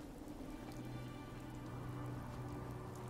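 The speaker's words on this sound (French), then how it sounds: "Un temps pluvieux sur les terres désolées aujourd'hui." Steady rain falling on wasteland terrain in a video game, a constant close hiss of drops on surfaces with no talking, even in loudness throughout.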